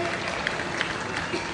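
An audience applauds for Kipchumba Murkomen at a ceremony conferring city status on Eldoret. A brief burst of crowd clapping sits under and alongside a speaking voice.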